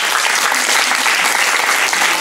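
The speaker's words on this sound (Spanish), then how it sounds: "Un aplauso para él." A circus audience claps for a performer in a dense, loud burst of applause that holds steady throughout and fills the space close by.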